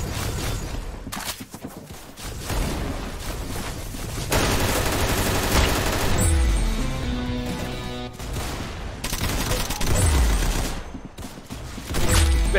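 Rapid bursts of gunfire in the Roblox game Arsenal, repeated volleys of close, loud shots in dense clusters with short gaps between them.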